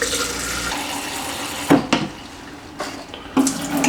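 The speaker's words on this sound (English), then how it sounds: "Get your shaker. Add water as always." Water from a tap pours into a protein shaker bottle, a steady close rush with a few sharp clinks and knocks of plastic as the bottle is handled.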